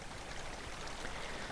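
Water placed as blocks in Minecraft rushes and flows in a steady, quiet broadband wash with no breaks, like a soft stream with no other sounds over it.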